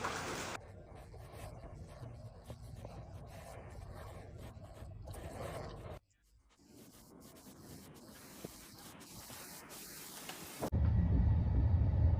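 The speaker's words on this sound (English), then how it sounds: "the violent storm that caused chaos throughout the region, bringing record rainfall, destructive winds, and widespread flooding" A violent thunderstorm in Sicily, Italy, with record rainfall and destructive winds: steady heavy rain hiss and rumbling thunder, broken by abrupt shifts between recordings and ending in a loud, deep roar.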